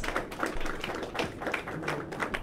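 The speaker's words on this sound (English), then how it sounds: "let's give them a round of applause" An audience at a labour organisations gathering claps for a workers union, a fairly quiet, dense patter of hands held steady throughout, somewhat distant.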